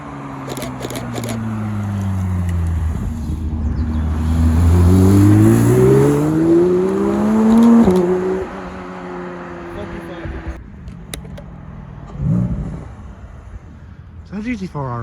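A Porsche GT4 fitted with a big rear wing rolls into a car meet in thick fog, its engine droning and rising in pitch, then easing off, with people chatting nearby.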